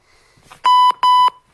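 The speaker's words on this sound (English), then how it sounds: "So I'm going to turn my timer on." A workout interval timer gives two loud, identical electronic beeps in quick succession. Each is a steady, sustained tone lasting about a quarter second, close to the listener, with a few faint noises just before and no talk.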